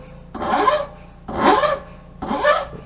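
Three slow, even rasping strokes of a file drawn by hand across an axe bevel, each a close, gritty scrape separated by short pauses.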